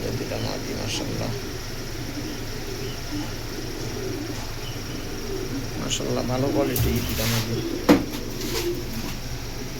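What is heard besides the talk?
aluminium breed pigeons cooing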